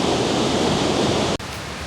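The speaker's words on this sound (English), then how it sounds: "I have got myself in a good location to make some photographs of this waterfall" A South Tennessee waterfall with a massive flow of clean water pours in a steady, full, hissing roar, close and loud, with a brief dropout near the end.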